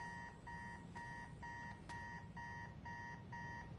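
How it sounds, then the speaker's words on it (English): An alarm clock in a Spider-Man video game rings in rapid repeating bursts of electronic beeps, evenly spaced and moderately quiet, with no speech. "How long has that been going off?"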